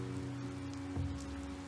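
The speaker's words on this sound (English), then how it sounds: "The clouds convulsed and began to drip, and it was then raining." Rain falling in a steady soft patter over a low droning hum, faint and continuous with no voices.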